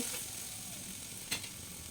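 Chili, turmeric and cumin powder frying in a pan for a fish curry, a steady soft crackling sizzle with one brief spoon scrape near the end, close and fairly quiet, no talking.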